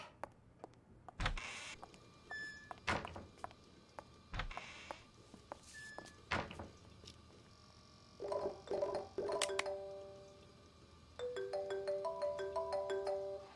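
A phone rings in the video game Unheard, with repeated electronic ringtone pulses toward the end, following scattered clicks, thumps and footsteps.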